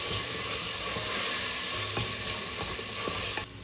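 Ginger and garlic paste, blended with green chili and coriander stems, sizzles in hot oil with browned onions in a one-pot chole dish, a steady close frying hiss with light stirring scrapes and no talk.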